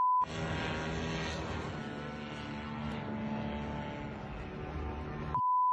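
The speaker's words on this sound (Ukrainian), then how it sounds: "Наступної ночі безпілотники знов атакують ту саму башту." Attack drones fly overhead at night toward a tower in Russia, a loud, steady propeller-engine drone holding for about five seconds with brief beeps at the start and end and no talk.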